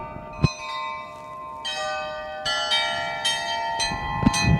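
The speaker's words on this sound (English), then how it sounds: "Listen to this bell." A church bell in Liège, Belgium rings repeatedly, its sustained metallic tones overlapping and shimmering, with soft thuds and knocks nearby; no one speaks.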